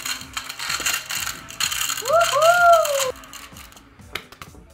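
A small novelty 'As Seen on TV' mini vacuum cleaner whirs close by with rattling mechanical clicks and a brief squeaky rising tone, cutting off after about three seconds.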